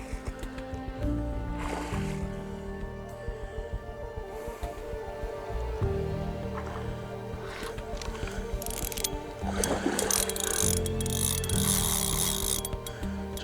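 A fishing reel's loosened clutch ratchets in bursts of rapid clicking as a hooked pike pulls line on the River Trent, heard up close with outdoor water and handling noise around it.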